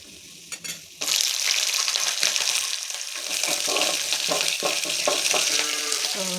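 Green chillies for a tempering hit hot oil with a sudden loud burst of sizzling that then crackles steadily, with stirring scrapes, close and continuous.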